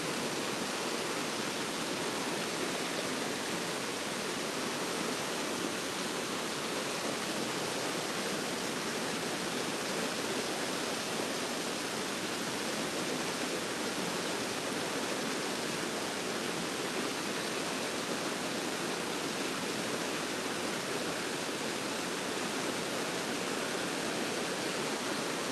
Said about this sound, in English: So I want to know if anybody can even hear me over the rushing water